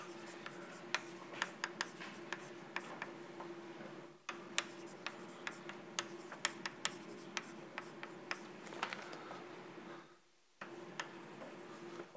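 Chalk or marker tapping and scratching on a lecture board in quick irregular strokes and ticks over a steady low room hum, with a short pause partway through.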